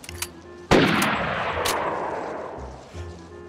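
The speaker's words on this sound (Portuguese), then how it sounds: "que é esse tiro, velho?" A single loud gunshot in the video game DayZ cracks nearby and rolls into a long decaying echo, with faint game ambience before and after.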